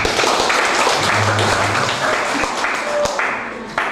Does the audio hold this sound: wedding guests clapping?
yes